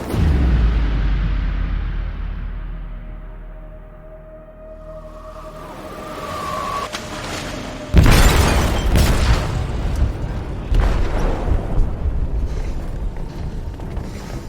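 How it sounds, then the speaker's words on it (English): A loud explosive detonation in a ship's hold in Detroit: Become Human: a heavy low boom hits suddenly, followed by rumbling, crashing debris and continuing roar as the vessel shakes, after a quieter stretch of low drone and a rising tone. "They detonated an explosive in the hold"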